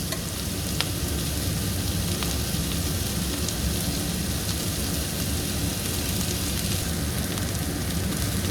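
Onions frying in sesame oil in a pan for a chutney, a steady, even hiss and crackle with occasional faint clicks, continuous and close, no speech.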